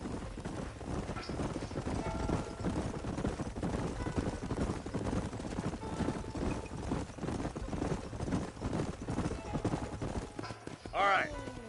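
Horses trotting in Red Dead Redemption, a steady clip-clop of hooves running throughout under background game sounds, with a brief whinny-like call near the end.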